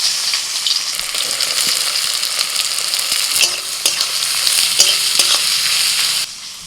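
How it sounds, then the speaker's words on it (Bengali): Chopped onion frying in hot oil, giving a loud, continuous close sizzle for a Bengali matar pulao, with occasional light stirring scrapes and clinks over the crackle and no talking. "তেল গরম হয়ে গেছে, দিয়ে দিচ্ছি পেঁয়াজ কুচি।"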